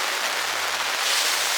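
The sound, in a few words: heavy rain on a tent while camping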